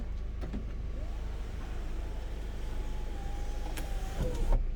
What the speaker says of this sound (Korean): 썬루프도 조용히 잘 작동하고요